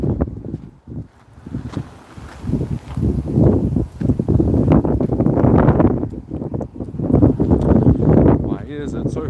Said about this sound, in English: it's probably going to be a bit windy